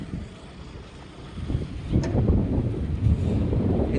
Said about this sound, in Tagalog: Sarap ng hangin guys, oh. Lakas!